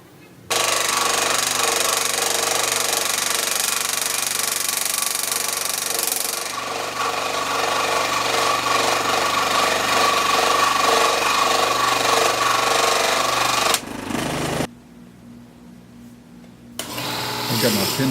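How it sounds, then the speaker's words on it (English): A pin chuck drills the center hole through a pen blank on a lathe, giving a steady, loud whirring and grinding drone that runs unbroken for about fourteen seconds, then drops to a quieter hum before picking up again. "I'm just drilling the center hole"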